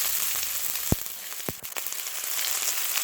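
Two large, finely chopped onions sauté in hot oil for an aloo gobi curry, giving a steady close sizzle broken by a couple of sharp spoon clicks against the pan.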